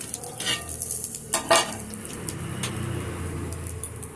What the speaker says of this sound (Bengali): যতক্ষণ ফোড়নটার সুন্দর গন্ধ না বেরো ততক্ষণ আমি ফোড়নটাকে একটু ভেজে নেব।